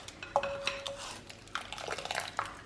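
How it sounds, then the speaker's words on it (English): Clinking of a whisk or spoon against a clay matka cup of smoky tandoori tea, a few quick metallic taps and light stirring scrapes, close and fairly quiet. "I always make sure I whisk it with this as well"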